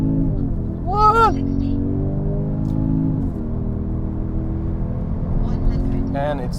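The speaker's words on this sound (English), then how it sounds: "Sport Plus, floor the brake and the throttle, launch control ready, and go" A Genesis G70 Shooting Brake launches hard using launch control, its engine droning loud and steady from inside the cabin, with a shift partway through. A voice speaks briefly over it.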